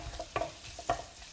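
Onion frying in a pan while a radicchio chicory base is prepared, heard as a faint low sizzle broken by a couple of soft stirring scrapes, with no voices.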